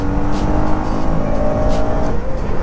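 Motorcycle engine running steadily at speed while the rider shifts gears without the clutch, a loud continuous drone with slight changes in pitch and rushing wind.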